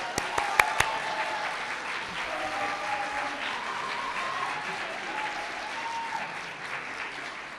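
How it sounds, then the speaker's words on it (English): An audience applauds dancers at a community event, with steady, dense clapping filling the hall throughout and a few sharp, close claps standing out at the start. "So let us give another round of applause for those fabulous dancers"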